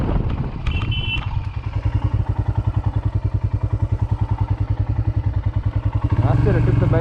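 A Royal Enfield Himalayan BS4 motorcycle rides an off-road stretch in Sikkim, its single-cylinder engine thumping in a loud, steady rhythmic pulse with some clatter, then revving up near the end.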